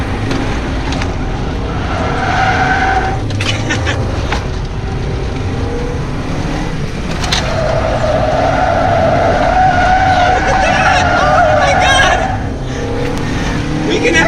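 A stock Mazda Miata slides around a track on its original tires, with the engine droning steadily and the tires hissing and squealing loudly throughout.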